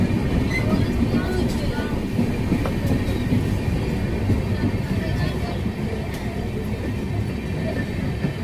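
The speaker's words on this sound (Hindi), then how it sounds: "देख सकते हो पैरेलल ओवरटेक कर रही है हमारी ट्रेन को ये" A passenger train on the New Delhi to Gaya route rumbles steadily alongside another train running parallel, with a constant close wheel roar and faint clatter while voices talk over it.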